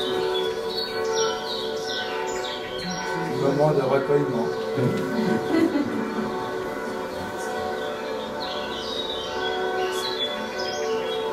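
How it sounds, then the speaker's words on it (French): A small carillon chimes with layered, ringing bell tones sustained throughout, while a voice speaks briefly over the bells. "je vous fais juste entendre ce petit carillon"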